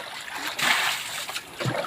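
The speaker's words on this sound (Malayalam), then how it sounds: "ഇപ്പോൾ നമ്മളുടെ അനിയൻ വെള്ളം ഫുള്ള് കോരി കളയുന്നുണ്ട്." Splashing and sloshing water in short bursts as water is scooped out of a guppy tank and tossed out, fairly close with no talking.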